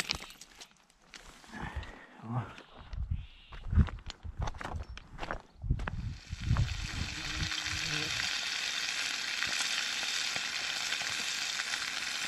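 Pike fries in a pan for breakfast at camp on a long Putorana trek between Igarka and Norilsk. Close thuds and rustling handling come first, then a loud, steady hiss of sizzling oil runs unbroken to the end.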